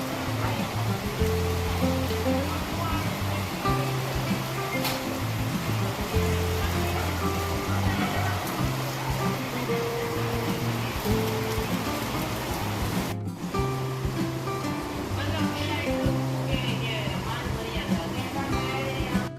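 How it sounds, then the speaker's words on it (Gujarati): First light rain of the season falls outside a home in Junagadh, a steady, even hiss and patter of drops and running water that continues throughout, with faint voices in the background. "વરસાદ ધીમો ધીમો એવો સરસ વરસે છે।"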